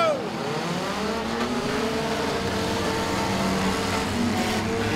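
Race cars roar off the line together at the start of a race, engines climbing in pitch as they accelerate away, loud and layered, with a crowd-like wash and voices underneath.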